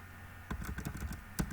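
Someone types on a computer keyboard in quick, quiet bursts of key clicks, with a few louder taps among them and no talk.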